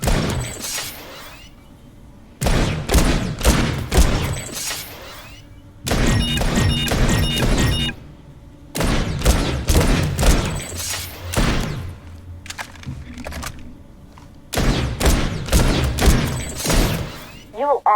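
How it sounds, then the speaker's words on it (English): Bursts of gunfire at targets in Planetside 2 while aiming down sights, loud clustered shots in several separate volleys with short gaps between, heard alone without talk. "Try shooting some targets while aiming down sights."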